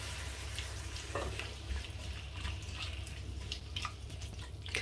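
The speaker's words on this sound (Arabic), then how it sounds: "غادي نشحروها مع هاد الزويته. الان غادي نزيدو الكروفيت" Shrimp sauté in oil in a pan, giving a soft, steady sizzle with scattered light crackles and stirring clicks, faint and close, with no talking.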